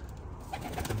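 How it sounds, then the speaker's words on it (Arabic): A pigeon coos softly in low, throaty tones, heard briefly outdoors against steady broadband background noise. "شوفوا الطير يريد يطير"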